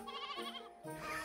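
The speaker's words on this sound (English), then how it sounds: "shepherds take care of sheep" Sheep bleat in two quick wavering calls, one after the other, fairly close and clear with no voices over them.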